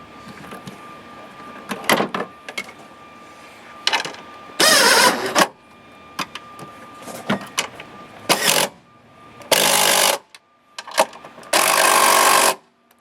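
Several short, loud bursts of a cordless impact tool rattling on valve cover bolts of a 2011 Nissan Altima 2.5, separated by quiet pauses and small clanks.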